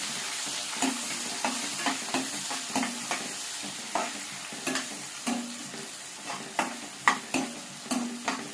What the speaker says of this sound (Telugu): ఈ ఉల్లిపాయ ముక్కలు కూడా గోల్డెన్ బ్రౌన్ కలర్ వచ్చేంత వరకు బాగా ఫ్రై చేసుకోవాలి